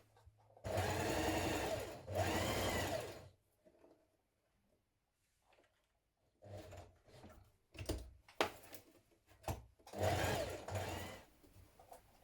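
Edge stitching on trouser pockets runs in three loud bursts on a sewing machine, each lasting a second or two, separated by pauses filled with soft clicks and fabric handling.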